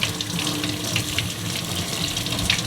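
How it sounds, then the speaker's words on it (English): Tap water runs steadily over breadfruit being washed in a sink, a close, continuous splashing rush with shifting spatters as the fruit is turned under the stream. "Yes, guys, you have to make sure you wash your breadfruit."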